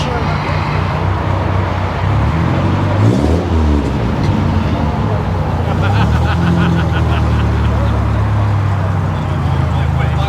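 A BMW 8 Series pulls away at an outdoor cars and coffee show, its engine rumbling loudly and steadily nearby while people talk over it.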